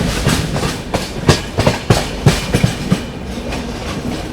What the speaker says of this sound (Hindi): वो रही आप लोगों की एर्नाकुलम हज़रत निज़ामुद्दीन मंगला लक्षद्वीप सुपरफास्ट एक्सप्रेस